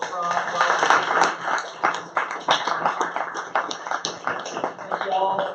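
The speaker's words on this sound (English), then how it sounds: "I want another round of final round of applause" Final round of applause at a nonprofit meetup, a smaller group clapping in a dense patter with voices mixed in.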